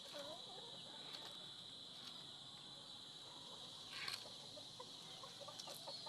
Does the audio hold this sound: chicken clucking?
yes